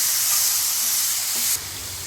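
Water poured into a hot pan with ground ginger paste sets off a loud, steady sizzling hiss close by, which eases slightly just before the end.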